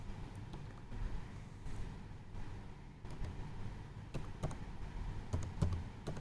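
Typing on a computer keyboard while entering replacement words in a Microsoft Office document, soft quick key clicks in uneven bursts with a few sharper taps toward the end, close and fairly quiet.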